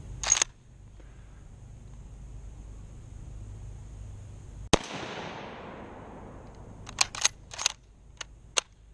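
Mosin Nagant rifle shots outdoors, one loud sharp crack followed by a long fading echo, with a few smaller clicks and knocks before and after it.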